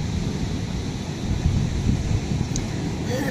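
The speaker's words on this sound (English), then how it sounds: "Can you hear the waves coming in?" Ocean waves roll in on a beach in the morning, a low continuous surf rumble with gusts of wind buffeting the microphone and no talking.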